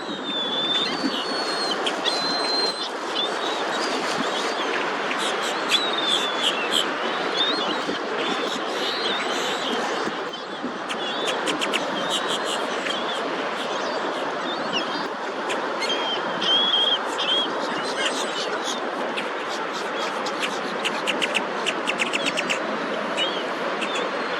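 Birds, ducks and geese among them, gather outdoors to be fed bread, producing a steady dense chorus of chirps, tweets and quacks, close and continuous throughout with no talking.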